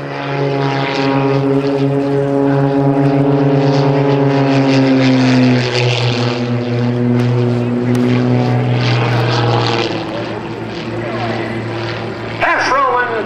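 Propeller aerobatic aircraft of the Iron Eagles team performing at the 2010 Greenwood Lake Airshow, its engine droning loud and steady throughout, the pitch shifting slightly as the plane maneuvers overhead.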